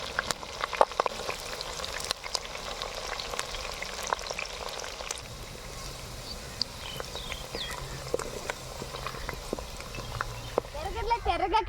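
Curry leaves and chopped onion sizzling in hot oil for a stone-fish bommidayila curry, a steady close crackle with sharp pops throughout and occasional utensil clinks.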